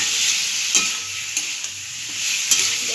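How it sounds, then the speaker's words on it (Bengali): Pointed gourd and shrimp sautéing in a pan, a loud close steady sizzle punctuated by a few sharp clinks and scrapes of a spatula stirring. "এবার এটাকে ভালো করে একটু কষিয়ে নেব।"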